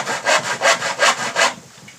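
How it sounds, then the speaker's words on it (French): Hand saw cutting wood to make an insect house: five rhythmic back-and-forth rasping strokes, close and loud, then stopping. "On scie bien sur le trait, pas dépasser."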